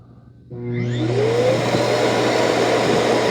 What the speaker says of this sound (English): Okay, it's gonna auto empty.